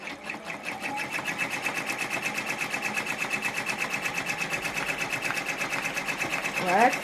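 A sewing machine stitches stippling and basting on a quilted Easter mug rug, giving a rapid, steady run of close mechanical stitching that continues without a break for the whole stretch.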